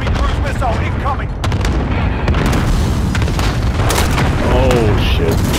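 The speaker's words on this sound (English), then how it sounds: "Enemy cruise missile incoming." A cruise missile explosion in a first-person shooter, heavy booms and gunfire layered into a loud, continuous roar of battle, with voices and game announcements talking throughout.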